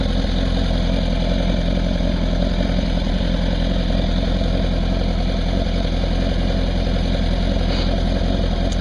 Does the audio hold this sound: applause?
no